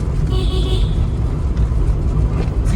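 A Renault Kwid RXT car cruises at 60 km/h in fourth gear through a forest area, a steady close road and engine rumble with tyre noise, faint tonal hiss briefly rising.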